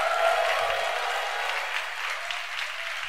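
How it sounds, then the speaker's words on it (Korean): A church congregation applauding during a sermon: dense, steady clapping from many hands fills the space evenly, sustained and fairly loud throughout, with no clear speech. "우리 주님께 영광의 박수 올려드리겠습니다."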